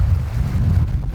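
Wind buffets a microphone aboard a Seawind 1600 catamaran sailing downwind, a loud, low rumbling roar throughout this brief moment.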